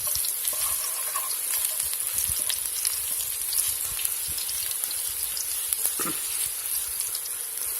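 Garlic stir-fried in a pan over medium heat, a steady close sizzle with crackling spits and occasional scrapes of stirring, continuous throughout with no talk.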